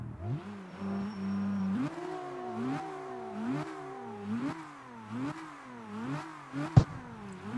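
A video game car engine in CarX Street revs repeatedly in rising and falling sweeps, a steady rhythmic vroom with a sharp clank near the end.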